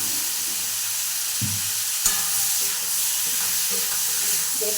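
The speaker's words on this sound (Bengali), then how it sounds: "তার মধ্যে আলুটা দিয়ে ভালো করে আমি কিন্তু কষে দিচ্ছি" Potatoes frying in spiced oil with tomato, sizzling steadily up close while being stirred, with occasional spoon knocks and scrapes against the pan, including one sharp clack.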